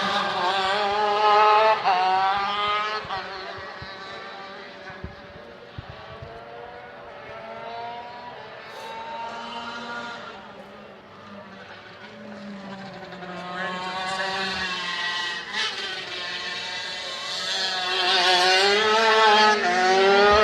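Racing karts in a NorCal Karters IKF heat scream around the track, their high-pitched engines rising and falling as several pass close by, loud and continuous for the whole stretch with no talk over them.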